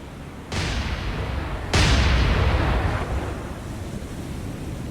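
Naval guns firing at will in the War on the Sea game, two heavy booming blasts about a second apart followed by a long rumbling roar that fades slowly.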